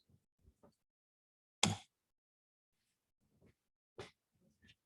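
Two short, sharp sneezes burst out of near silence during a biology lecture, separated by a couple of seconds, with faint breaths and small noises around them.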